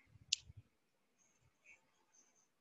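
A single crisp mouse click on a create cluster button in a cloud console, close and quiet, followed by faint low background hum and a few soft ticks.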